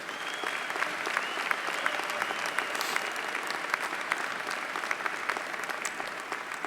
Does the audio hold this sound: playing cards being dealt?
no